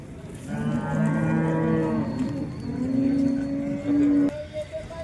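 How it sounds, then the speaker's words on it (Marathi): A horned cow at a cattle market lets out a long, loud, close moo that wavers in pitch and then trails off, followed by a brief quiet. "इथे एक आपली गाय आहे"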